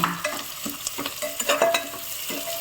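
Vegetables sauté in a pan for a Kovai-style rice and dal dish: a loud, close sizzle cut by repeated scraping strokes of a stirring spoon at an uneven rhythm, with no speech.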